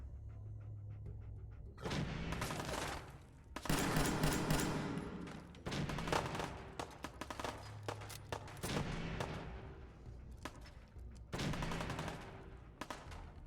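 Bursts of gunfire in Fallout 4 come in repeated clusters of rapid shots separated by short gaps, loud and near, with some heavier booming blasts mixed in.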